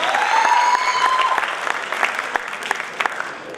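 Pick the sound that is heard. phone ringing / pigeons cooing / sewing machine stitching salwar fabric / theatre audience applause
theatre audience applause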